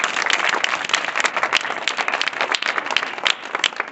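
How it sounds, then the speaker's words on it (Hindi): A group of schoolchildren claps together in a classroom during a morning assembly, giving a dense, even burst of applause that continues steadily throughout, close and loud. "मेरी ताली लगाओ।"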